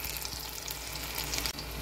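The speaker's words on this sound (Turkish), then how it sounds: "Böyle böyle hepsini kızartacağız arkadaşlar." Zucchini rings sizzle steadily in hot frying oil, a dense continuous crackle and hiss close by with no voices.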